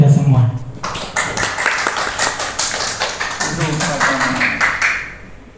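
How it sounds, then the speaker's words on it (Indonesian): A classroom group claps together in brief applause, a quick run of close, sharp hand claps over a speaking voice. "Beri aplaus untuk kita semua."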